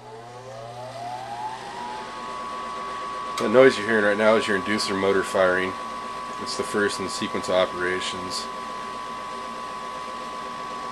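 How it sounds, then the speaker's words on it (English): A gas furnace inducer motor hums steadily at start-up, its tone rising and then holding as a constant whine while someone talks over it. "The noise you're hearing right now is your inducer motor firing,"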